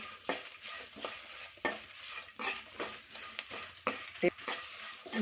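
Spice powder for tomato bath stir-fries in a pan, soft sizzling under repeated scraping strokes of a spoon against the pan, close and fairly quiet.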